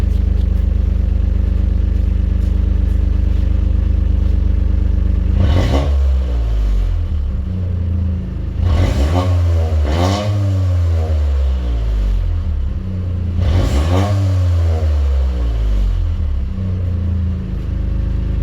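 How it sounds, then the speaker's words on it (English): A car with an aftermarket exhaust idles steadily, then swells into three hard revs with a deep, throaty exhaust roar, each rising and falling back to a low rumble. "Let me give it a couple revs, see what it sounds like."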